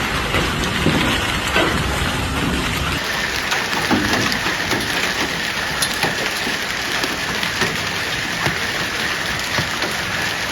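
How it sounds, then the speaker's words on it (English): Hail pounds vehicle roofs during a storm in Brescia or Verona, Italy, a loud, dense, continuous drumming patter with no voices. "The sound of hailstones hitting vehicle roofs was quite loud"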